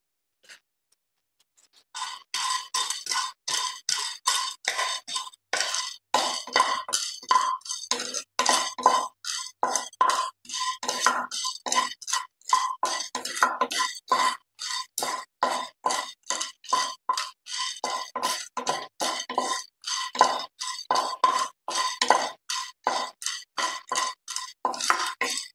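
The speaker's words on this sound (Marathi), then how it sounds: "आता इथे आपण लवंग भाजून घेणार आहे." Cloves being dry-roasted and stirred in a pan after cardamom, giving steady rapid clinks and scrapes of spoon against metal that repeat in a quick rhythm for the whole stretch, close and fairly loud with no talk.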